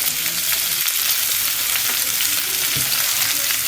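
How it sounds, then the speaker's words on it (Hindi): Shami kebabs fry in a pan with a dense, continuous hiss and crackle of hot oil, close and steady with no voices. "इसी तरह हम बाकी भी फ्राई कर लेंगे।"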